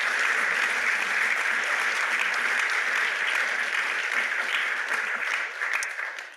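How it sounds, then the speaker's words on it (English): A dinner audience at a journalism awards event gives a round of applause for a class of journalism fellows, dense continuous clapping from a large room, steady and even before tapering slightly at the end. "let's give one last round of applause to this year's class of Robert Novak Journalism Fellows"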